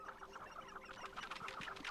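Chickens clucking in the video game Hogwarts Legacy, a steady cluster of soft, overlapping clucks and chatter with no talk, fairly even in level throughout.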